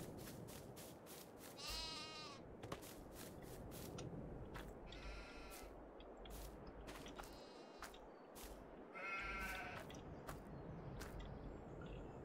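Several wavering sheep bleats from the video game Farming Simulator 22 rise over a constant low background hum, with sharp clicks and taps scattered throughout.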